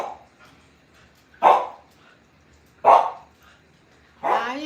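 A dog barks indoors in three loud, separate barks spaced about a second and a half apart, with near silence between them and no talk.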